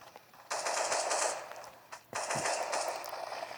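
Rapid automatic gunfire fires at zombies in a wave-based police arena video game, with two loud sustained bursts separated by a brief pause.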